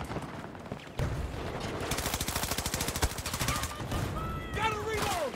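Automatic gunfire in the video game Battlefield 2042 rattles in a rapid, sustained burst of close shots, followed by quieter game effects and chirping sounds.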